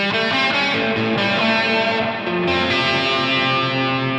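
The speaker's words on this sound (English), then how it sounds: "if I have a very overt reverb here with lots of decay, very high mix" An electric guitar rings out through a heavily mixed reverb with long decay, sustained chords washing together densely and loudly without any gap or talk.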